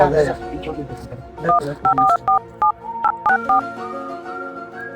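Touch-tone keypad beeps from a phone being dialed to place a call, about ten short evenly spaced tones in a row, heard over a steady background tone and room noise.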